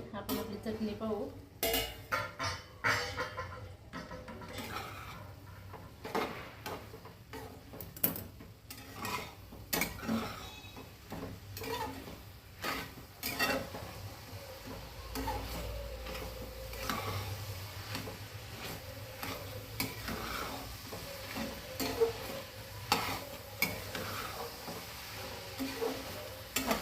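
Egg bhurji chutney stir-fried in a pan, with repeated scraping and clinking of a spatula against metal and a soft sizzle underneath, close and steady throughout, with some talking at times.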